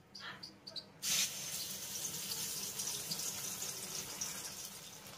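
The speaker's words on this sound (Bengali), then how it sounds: "সেই সঙ্গে দিয়ে দেব মিক্সচারের বাটি ধোয়া জল সামান্য একটু" Water rinsed from a mixer bowl poured into a cooking pan of spiced vegetarian pointed gourd curry, a sudden splash followed by a steady hissing sizzle that continues close by.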